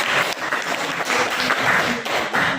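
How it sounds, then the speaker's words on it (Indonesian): Applause for grade 6 pupils in a classroom lesson, a steady wash of many hands clapping at close range throughout, with a few brief dips and no talking. "Tepuk tangan untuk siswa kelas 6."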